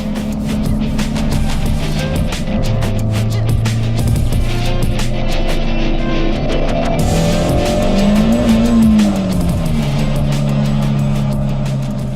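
A Toyota MR-S sports car with a mid-rear engine and dual Akrapovic-style exhaust pipes rumbles loudly and steadily, its pitch rising and dipping with revs throughout.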